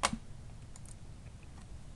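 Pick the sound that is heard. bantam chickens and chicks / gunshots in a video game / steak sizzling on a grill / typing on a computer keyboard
typing on a computer keyboard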